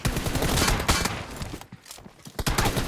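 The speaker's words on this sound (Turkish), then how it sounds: "Oğlum havada karada her yerde mermi atıyor." Rapid bursts of gunfire crackle loudly in the shooting game PUBG Mobile, dense and continuous at first, then thinning to scattered shots before a final burst.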